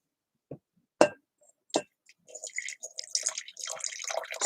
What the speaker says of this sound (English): I'm going to pour myself another cup of Joe.